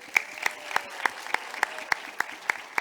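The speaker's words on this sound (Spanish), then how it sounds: "aplauso para Iris, 90 años." Audience applause at a corporate talk celebrating a company's 90th anniversary: steady, evenly spaced claps at moderate volume, with no voices.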